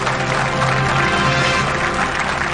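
Studio audience applause on Kaun Banega Crorepati, a dense, steady wash of clapping held at an even level throughout, with no voices standing out.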